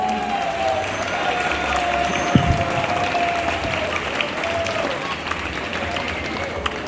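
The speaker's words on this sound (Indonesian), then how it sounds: "Tepuk tangan untuk kelas 9 dan kelas 4." A crowd at an Indonesian santri debate claps steadily for two competing class teams, broad continuous applause with a faint sustained tone running underneath and a few sharper knocks.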